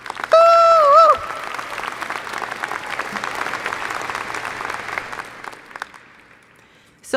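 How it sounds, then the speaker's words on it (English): University of North Dakota class of 2023 graduates applauding at commencement, a broad wash of clapping that swells under a brief cheer at the start and fades gradually over several seconds. "Give yourselves a round of applause."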